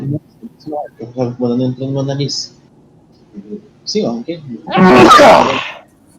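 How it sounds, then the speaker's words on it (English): People talk briefly, then a loud, sudden sneeze bursts out close to the microphone. "I just sneezed."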